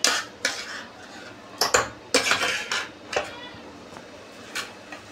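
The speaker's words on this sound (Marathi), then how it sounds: "चमच्याने पुन्हा एकदा मॅश करतो." A spoon mashes boiled potatoes for vada pav in a metal bowl, with loud, irregular clanks and scrapes and faint background voices.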